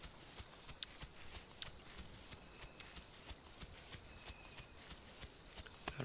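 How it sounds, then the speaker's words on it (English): Footsteps of a dinosaur moving through terrain in the survival game The Isle, a faint, steady series of soft thuds repeating in an even walking rhythm against quiet ambient background. "I heard footsteps."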